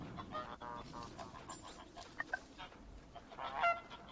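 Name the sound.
geese honking in video game Knights and Bikes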